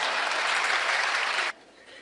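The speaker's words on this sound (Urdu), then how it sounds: "میں قسم کھاتا ہوں یہ ہال تالیوں سے گونجتا رہے گا۔" A hall audience applauds in a dense, steady burst of clapping for about a second and a half, then it cuts off abruptly to quiet room noise.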